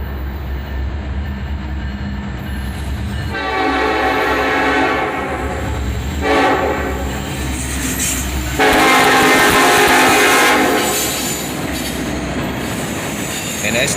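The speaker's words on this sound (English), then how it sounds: "An SD-70 Ace leads, followed by number 8102, the Pensylvania Heritage Unit, an ES-44 AC." A Norfolk Southern freight led by an SD70ACE with ES44AC 8102, the Pennsylvania heritage unit, passes close with loud repeated horn blasts over rumbling, squealing wheels and rail clatter.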